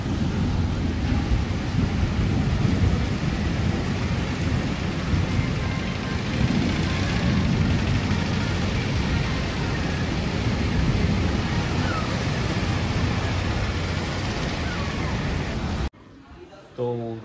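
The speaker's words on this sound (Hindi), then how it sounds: "बाहर बहुत तेज बारिश हो रही है" Heavy rain pours down outside in Haridwar during the monsoon, a loud dense continuous roar of falling water holding steady before cutting off abruptly near the end.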